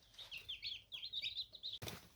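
Newly hatched chicks from an incubator, thirty-two out of thirty-three eggs, cheep in a continuous chorus of high, overlapping peeps, fairly close, with a brief soft thump near the end.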